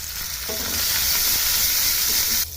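Chopped green chillies hit hot oil already holding cumin and asafoetida, a loud steady sizzle with faint stirring clinks, then the frying noise drops away sharply at the end.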